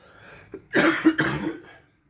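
A person coughs a couple of times in quick succession, close and fairly soft, followed by a breathy throat-clearing sound.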